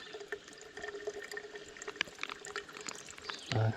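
A small stream runs steadily over rocks in the woods, its gentle trickle and burble continuous and fairly close, with a brief louder splash of water near the end.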